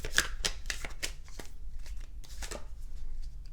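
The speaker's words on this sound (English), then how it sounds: "Let's draw a few more cards." Tarot cards shuffled and drawn by hand: a quick run of crisp, close papery riffles and flicks, with a short pause midway before another burst, alone in a quiet room.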